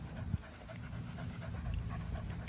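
A 17-month-old bull dog terrier pants close by, quick rhythmic breaths running steadily through the moment with a small bump near the start.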